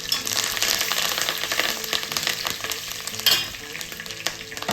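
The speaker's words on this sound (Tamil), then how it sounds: "கடுகு போட்டுட்டு கடுகு பொரிஞ்சு வந்ததும் கருவேப்பிலை போட்டுக்கலாம்." Mustard seeds, curry leaves and asafoetida sizzle and crackle in hot oil for a garlic pickle tempering, a loud, steady frying hiss close by with scattered pops and stirring scrapes, no voices.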